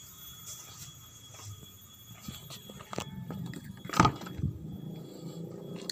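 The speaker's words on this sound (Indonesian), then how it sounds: "Bentar saya hidupkan ya." A used diesel car is started quietly: keys jangle and click, then a short, sharp crank and catch is followed by a low, soft rumble.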